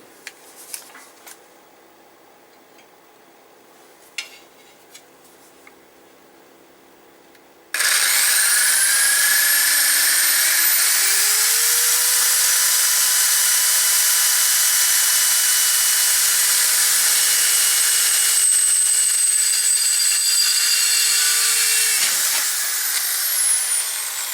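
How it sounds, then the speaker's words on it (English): A power drill whines loudly and steadily for several seconds, its pitch rising as it spins up and dropping as it cuts off, after a quiet stretch. "let's see if I can drill a hole straight"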